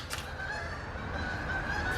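Geese honk outdoors, a few faint, reedy calls at a moderate distance over steady background noise, with no one talking.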